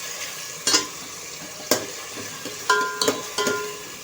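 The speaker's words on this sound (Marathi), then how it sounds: "हे पाहता टोमॅटो फ्राय होतोय" Tomatoes frying in hot oil with curry leaves for a Puneri chicken curry, a steady close sizzle broken by several sharp stirring clacks of a spoon against the pan.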